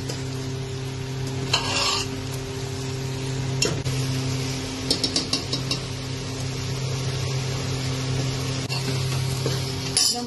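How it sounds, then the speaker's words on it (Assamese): Mutton frying in a pan for curry gives a steady sizzle with a low hum beneath it, broken by stirring scrapes and a few light metallic clinks of a utensil against the pan. "এতিয়া আৰু 20 মিনিট সময় পুৰা মাংসটো ফ্ৰাই কৰিম মই"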